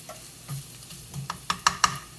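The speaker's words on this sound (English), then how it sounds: "So I'm just going to let the garlic go for a minute." Garlic frying in a pan for marinara sauce, a soft sizzle punctuated by several sharp utensil clicks and stirs near the end.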